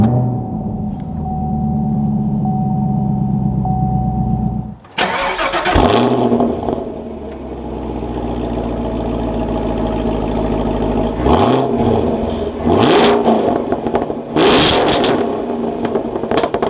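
Manual 2022 Chevrolet Camaro 2SS 1LE idling before it is started with a sharp crank and loud bark, then settling into a rumbling idle broken by two strong throttle blips that rise and fall, recorded close from inside the cabin.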